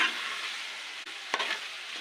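Tripe (boti) curry sizzles softly in a pan as it is stirred, a steady frying hiss broken by a brief scrape or two of the spoon.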